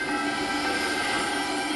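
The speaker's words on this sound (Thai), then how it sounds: "ชอบด่านนี้นะ เพราะว่ามันมีรถไฟให้นั่งด้วย" A train ride in the amusement park level of a video game gives a steady, even rumble and rail hum with a high tonal whine, continuous and unbroken throughout with no talk.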